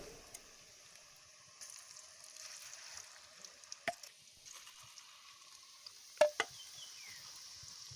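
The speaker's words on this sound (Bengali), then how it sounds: "দেখেছো তেলটা কি সুন্দর বুজবুজি মারছে।" Oil bubbling softly around lentil and egg fritters in a pan, a faint, quiet sizzle with a few sharp clinks and taps from a spoon near the end.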